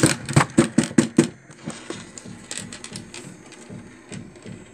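Marble rolling and clattering inside a plastic Perplexus maze ball toy, a burst of quick rattling knocks followed by softer continuous rolling and scattered taps, close up.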